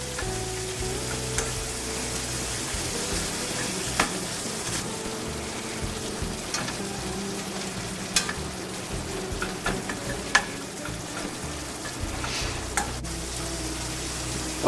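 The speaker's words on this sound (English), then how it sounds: "So in a medium skillet, we're going to brown up our beef a little bit." Ground beef and garlic sizzle steadily in a medium skillet, a continuous close frying hiss broken by scattered utensil scrapes and taps as the mixture is stirred, with no talking.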